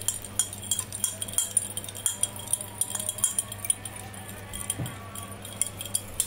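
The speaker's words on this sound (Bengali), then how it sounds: "এটা একটু এভাবে কাঁটা চামচ দিয়ে এটা ভালোভাবে মিক্সড করতে হবে" A fork beating a whisked whole egg into a homemade hair spa mixture in a bowl makes quick, steady light clinks and taps against the sides, close and fairly soft, with no talking.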